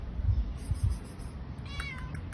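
Small kittens give a short burst of thin, high meows near the end, heard over a low, rumbling outdoor background with no speech.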